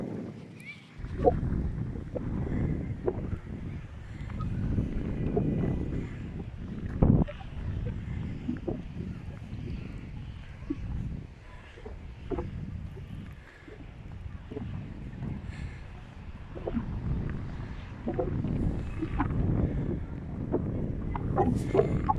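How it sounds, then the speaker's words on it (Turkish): Strong wind buffets the microphone continuously at Muş Castle, a low roaring gusty rush that rises and falls for the whole stretch, fairly loud and close. "Müthiş bir rüzgar esiyor."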